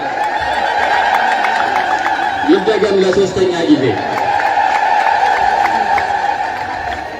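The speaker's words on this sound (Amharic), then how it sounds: "በእልልታና በጭብጨባ ፈጣሪያችንን እንድታመሰግኑልን በብፁዕ አባታችን ስም ጠይቃለሁ።" Crowd at an Orthodox church feast in Dire Dawa ululating and clapping, sustained high trilling voices and dense applause in a large gathering while someone speaks over a loudspeaker.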